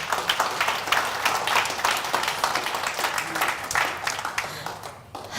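Audience at a KZN Top Business Women event applauds Sherry Armstrong, a round of clapping with a lively uneven rhythm that thins out toward the end.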